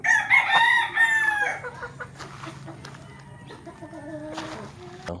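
A rooster crows loudly and close by at the start, followed by quieter clucking and farmyard bird calls in the background.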